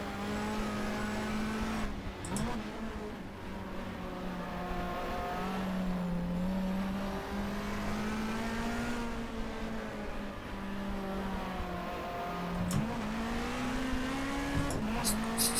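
A 1990s BTCC touring car engine in the GTR2 racing game, held in third gear and bogging: a steady, strained, droning engine tone with slow pitch dips and brief tyre squeals, continuous and close throughout.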